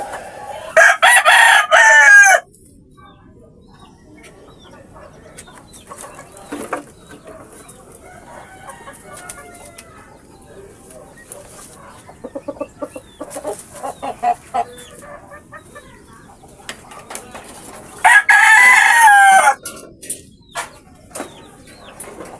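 Gamecocks and roosters crow loudly and close by, with one long crow at the start and another near the end, and scattered clucks and wing flaps in between.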